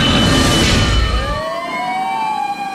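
Fire truck sirens wail during a firefighters' parade through the streets of Manila, starting over loud engine rumble before rising and falling siren tones carry on alone, fairly close.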